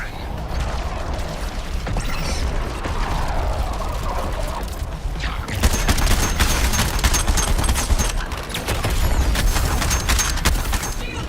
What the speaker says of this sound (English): The big gun's firing!